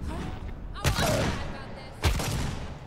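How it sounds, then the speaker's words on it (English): Enemy gunfire in Alien: Isolation cracks out in two loud, close, sharp shots about a second apart over a murmuring background with some speech-like sound. "Why are they shooting me?"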